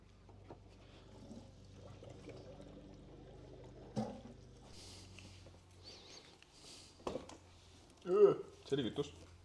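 Fuel pours through a hose into a car's tank, a soft hissing, gurgling flow running under casual conversation, with a few louder splashy bursts near the end.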